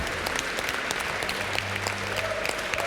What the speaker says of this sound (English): So big round of applause to Dodge there.